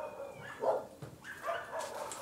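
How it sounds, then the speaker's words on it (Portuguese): Several dogs barking and yipping at a house, a few scattered barks of moderate loudness heard slightly distant over faint background noise, no talk. "Ai, meu Deus, tem uma cachorrada aqui no."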